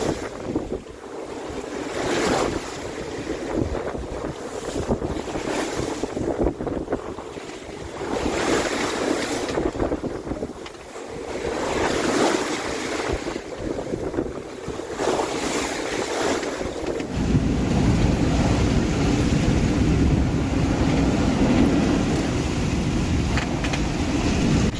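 Surf and rolling swell of roughly 10-foot open-ocean waves wash loudly and continuously around a sailboat on a solo passage to Australia, with steady wind buffeting the microphone and a deeper surge of water near the end, with no talking.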